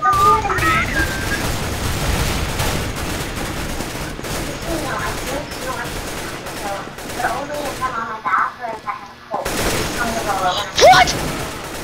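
Dense, loud gunfire from a Counter-Strike: Global Offensive match, with rapid bursts and booming grenade explosions, continuous for most of the stretch with a short lull near the end, while players talk over the action.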